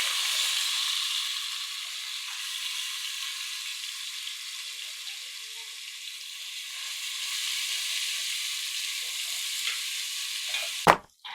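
Spices fry in hot oil for Punjabi kadhi pakora, producing a steady, close hissing sizzle that rises and falls slightly and ends with a brief clunk of utensil against the pan.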